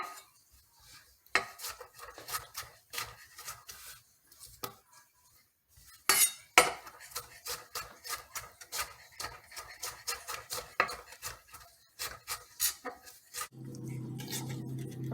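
A knife chops strawberries repeatedly against a cutting board, close by, in uneven bursts with short pauses and occasional light clinks.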